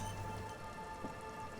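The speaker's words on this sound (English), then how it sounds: "It's getting late, and it's raining." Steady rain falls in Disco Elysium, a constant wash of patter with no talk over it.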